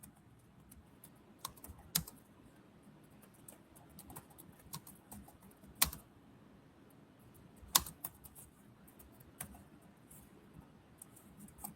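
Typing on a computer keyboard in irregular bursts of clicks, with a few sharper, louder keystrokes standing out, close by in a quiet room.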